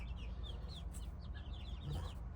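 Free-range chickens, including Marans, brown Leghorns and Master Grey, clucking and chirping softly over a steady low rumble, with scattered short calls throughout.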